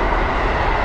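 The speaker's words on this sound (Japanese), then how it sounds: "電車が通るな。" A train passes nearby, a loud, steady rail rumble that fills a brief moment without speech.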